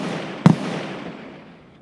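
Grenade blast in a video game: one sharp booming burst followed by a long rumbling decay, loud and alone.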